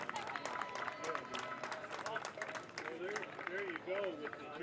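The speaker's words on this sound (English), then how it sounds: "One more round of applause for our All-Stars." A crowd applauds the All-Stars during a pregame ceremony at League Park for the 2019 Senate League Baseball Championship, steady clapping rattling under an announcer's voice.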